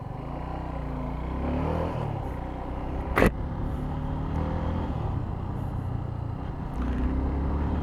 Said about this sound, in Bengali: সো জিক্সারটা একটু চালায় আসি।